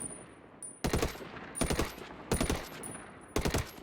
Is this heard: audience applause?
no